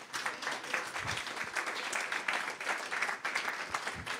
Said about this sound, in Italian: Questa persona che voi due dovete applaudire mentre la chiamo, si chiama Donatella Lamprese.